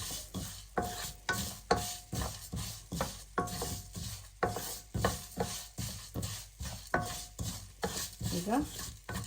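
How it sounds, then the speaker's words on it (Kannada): Coriander seeds frying in a pan for Mangalorean chicken curry, stirred in a steady rhythm of repeated scraping strokes, about two per second, over a faint sizzle, close and clear. "ಎಲ್ಲ ಜೊತೆಯಲ್ಲಿ ಫ್ರೈ ಆಗ್ತದೆ."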